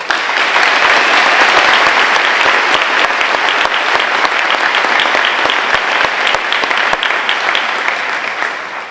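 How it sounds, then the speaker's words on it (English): Sustained audience applause at a high school graduation ceremony for graduating students, loud and steady for the whole stretch with a dense wash of many hands clapping and a slight fade toward the end. "Let's give them a round of applause."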